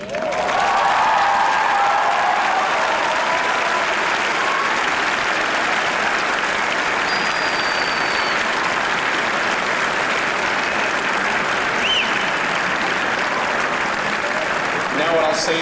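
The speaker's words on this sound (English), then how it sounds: "give them a standing ovation" A large graduation ceremony crowd gives a standing ovation, with sustained dense applause rising quickly and filling the whole stretch, with a few faint whistles and cheers mixed in.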